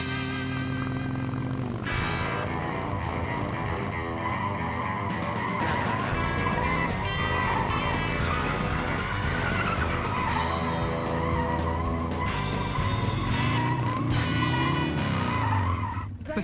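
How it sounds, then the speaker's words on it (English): A stunt motorcycle riding a wheelie in Poland roars loudly and continuously, its engine tone rising and falling, with squealing tires and skidding layered throughout. "Today, I'm going to ride on one wheel. On this motorcycle."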